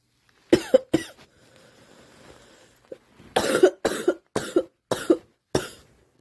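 Two sharp coughs from a persistent cough lasting weeks, a short lull with faint background noise, then a burst of five or six harsh coughs in quick succession, close and loud.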